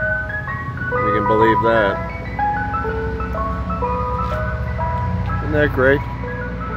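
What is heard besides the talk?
Mister Softee ice cream truck jingle playing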